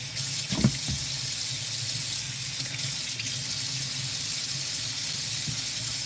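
Tap water runs steadily into a sink while a Lake Simcoe whitefish fillet is rinsed under it, with a constant close hiss and a faint splash near the start.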